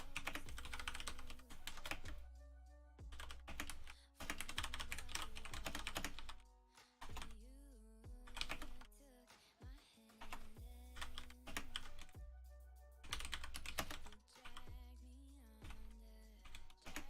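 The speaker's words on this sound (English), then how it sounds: "just typing a message to one of my team." Someone typing on a computer keyboard in quick bursts of close, crisp key clicks separated by short pauses, with no talking.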